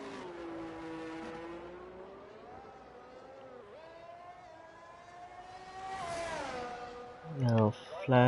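F1 race cars in a racing video game, pulling out of the pits at the Singapore circuit: a steady engine whine rising and falling in pitch beneath continuous commentary, with a louder car sweeping past near the end.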